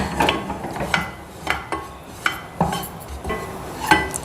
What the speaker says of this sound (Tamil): வெண்ணெயிலேயே நல்லா இந்த பச்சை வாசனை போகிற வரைக்கும் வறுக்கணுங்க